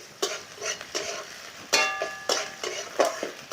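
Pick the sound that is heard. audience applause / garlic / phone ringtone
garlic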